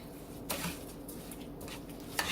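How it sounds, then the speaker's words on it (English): Dry onion soup mix is stirred into a dip in a bowl, giving soft scraping and a few light clinks of the spoon against the bowl, quiet and close. "you're just going to stir that in there really good"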